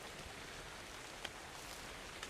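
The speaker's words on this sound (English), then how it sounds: "Ugh, it's raining on my head." Steady rain falls in the video game Ark Survival Evolved at night, a continuous even hiss of drops with a couple of faint sharper ticks, heard alone at low level.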